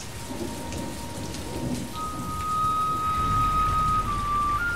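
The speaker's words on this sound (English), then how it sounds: "But storms and rain can wipe out life in an instant." Steady rain pours in the high Bavarian Alps during a thunderstorm, with a low rumble of thunder building toward the end and a continuous wash of raindrops, loud and close, with no voices.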